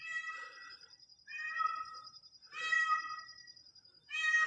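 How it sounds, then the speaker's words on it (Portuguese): A shy cat meows insistently over and over, three or four loud, drawn-out calls in quick succession, close to the listener, with no talking. "Teu amigo tá miando aí que nem doido"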